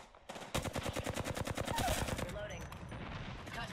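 Rapid automatic gunfire from the battle-royale shooter Apex Legends, a steady stream of close, loud shots in quick succession, sitting over a dense game mix.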